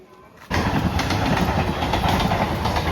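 A train rumbles past close by at a railway line crossing near a temple, loud and steady, with rhythmic clatter of wheels on rails after a quiet start.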